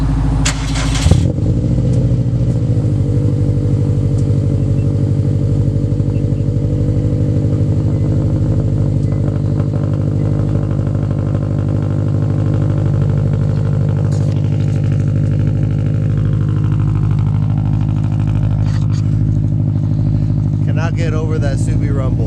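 Subaru WRX with an EJ255 engine idling after a cold start, a loud steady low rumble held throughout, with a sharp knock near the start and voices talking faintly over the engine later on.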